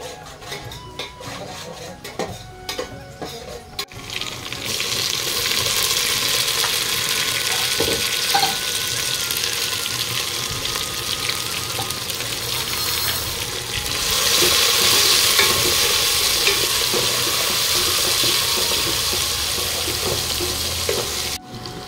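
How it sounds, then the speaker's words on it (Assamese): Masala spices frying in a pan while being stirred, a steady close sizzle and hiss that starts after a few quiet seconds and swells slightly later on, with no one talking. "এইখিনি লৰাই থাকিম নহলে জ্বলি যাব পাৰে আৰু পুৰা ধাং ধুং সাউণ্ড আহিছে"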